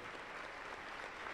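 Church congregation at a Pentecostal service applauding, a dense steady wash of clapping hands filling the room throughout.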